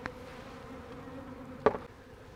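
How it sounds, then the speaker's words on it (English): Honey bees shaken off hive frames buzz in the air nearby, a faint steady hum with one brief louder knock or rustle partway through. "Shook all those bees off, so they're kind of all up in the air."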